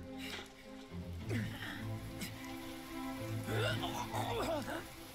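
Rain falling steadily in an anime episode, a soft continuous patter in the background beneath people talking and reacting.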